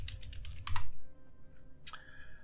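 Typing on a computer keyboard, a short burst of quick close key clicks followed by a quieter pause and a sharper tap or two, with no speech.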